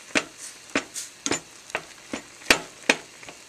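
Food being stirred and tenderized with adobo in a hot pan: a series of sharp scraping, clacking strokes about every half second over a faint sizzle, close and fairly loud, with no talking.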